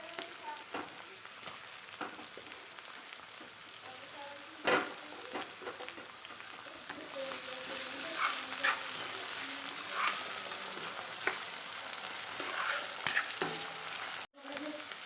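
Tomatoes fry in a pan for homemade noodles, a continuous sizzle broken by scraping stirs and occasional clinks of the spoon, close and moderately quiet.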